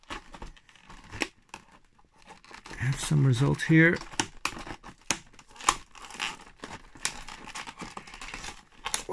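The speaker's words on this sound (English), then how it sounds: "let's use the big scissors then." Big scissors cut through glued packaging on Matchbox multipacks, a series of crisp snipping and crinkling bursts near the microphone, with a person talking briefly in the middle.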